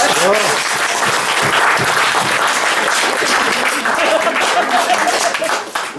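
An audience applauds for Rosi, a staff member at a local theatre event, in a loud, dense, sustained wash of clapping that carries on steadily before tapering off at the end, with some voices mixed in.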